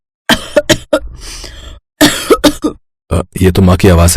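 A woman coughs in a kitchen, several sharp close coughs with a pause between bursts, followed by a voice speaking.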